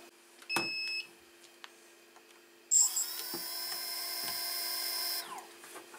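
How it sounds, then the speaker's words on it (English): Naza Lite V2 drone motors whir to life at idle speed after a short beep, a close high-pitched electric whine holding steady for a couple of seconds before winding down, amid faint clicks. "Now I just decreased the motor idle speed. because I think they were spinning too fast at the idle."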